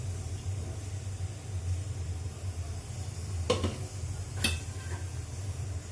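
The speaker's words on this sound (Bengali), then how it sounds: "আমি এখন ডালটা তেলানি দিব" Hot oil sizzles steadily in a pan while dal is tempered, a constant close frying hiss with two brief sharp clinks of a utensil against the pan partway through.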